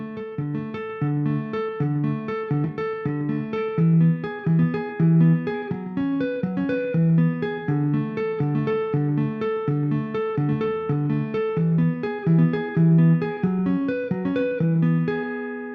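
A slow guitar part, with clean picked notes ringing in a steady, even rhythm and played alone without voices.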